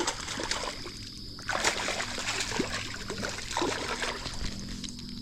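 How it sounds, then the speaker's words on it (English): Water rushing out of a small culvert, a steady splashing, trickling flow close by with a few louder gushes and no one speaking. "You can hear the water."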